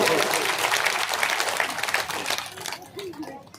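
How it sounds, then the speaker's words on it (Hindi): Applause at a Shrimad Bhagavat Katha religious gathering: a dense burst of audience clapping that thins out after a couple of seconds as a voice begins speaking. "एक बार तालियों से व्यास जी महाराज का स्वागत हो"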